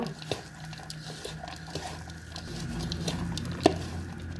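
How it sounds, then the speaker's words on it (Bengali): Pakora batter with onion and coriander is worked by hand, making soft wet squishing and patting sounds in an irregular rhythm, close and fairly quiet, with one sharper tap near the end. "একটু ধনেপাতা দিচ্ছি, আবারও সব দলতো করে মিক্স করে নেব।"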